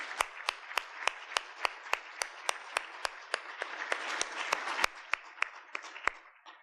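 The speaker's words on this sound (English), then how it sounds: "Can we have a round of applause for Greg and Susan?" Applause at a Montana State University State of the University address, with sharp, evenly spaced claps close by standing out above a softer wash of audience clapping for about six seconds.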